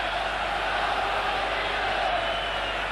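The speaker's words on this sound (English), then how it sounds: "Crowd behind that goal reacting if they'd already scored" A football crowd behind the goal at a 1983–84 FA Cup fourth-round match between Everton and Gillingham gives off a steady, broad roar of noise that holds through the whole moment.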